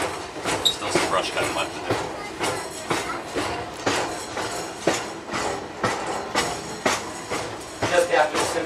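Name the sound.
train riding the Pittsfield & North Adams rail line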